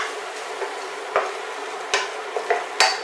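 Garlic and shallots sauté in a pan with a steady low sizzle, broken by several sharp utensil scrapes and clinks as the mix is stirred, close and clear with no talking.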